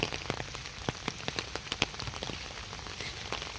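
Steady rain falls on an open field in Thailand after a night of rain, a dense, even hiss of drops with occasional sharper individual splats close by.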